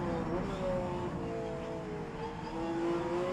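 A race car in a sim racing series engine accelerates at the start of a lap around Sportsland Sugo, its engine note droning and climbing steadily, with a commentator's voice faintly underneath.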